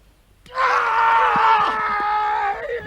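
A single loud, sustained shout bursts out and holds for a couple of seconds during a feint strike in a stone-ball-throwing comedy sketch, heard alone with no talk.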